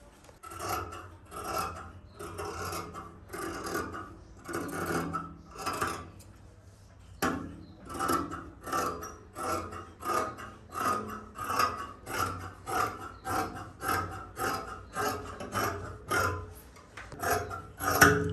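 Scissors cut through fabric for a kurti, giving a series of close, crisp snipping and rasping strokes in a steady rhythm, repeated many times without any talk.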